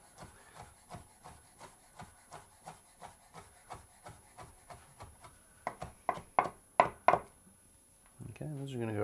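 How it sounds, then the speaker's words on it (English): A knife chops grapefruit supremes on a cutting board for an oyster mignonette: a steady run of crisp, evenly spaced taps that speeds into several louder, sharper strikes near the end, followed by a brief scraping sweep. "we're going to chop those up and use those in our mignonette"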